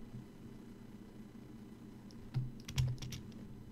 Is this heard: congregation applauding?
no